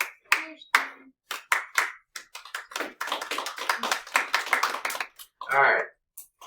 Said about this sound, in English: we clap quietly so it doesn't mess up the mic